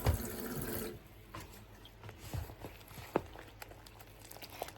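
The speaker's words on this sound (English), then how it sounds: "So now I want to add some water, a bit of cold water." Cold water pours briefly into a thick potato and spinach frittata batter in a kitchen, a short splashy trickle at first, then soft intermittent drips and small clatters that fade quietly.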